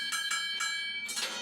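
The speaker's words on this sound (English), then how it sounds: "Ring your bell." A bell rung on a mine tour gives four bright metallic strikes at an even pace with sustained ringing tones between, clear and fairly close with no talk.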